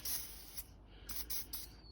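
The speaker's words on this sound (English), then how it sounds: "So just a little bit of silicone spray" Short hissing bursts of silicone spray lubricating sawmill wheels, several quick puffs in a row, close by and fairly quiet.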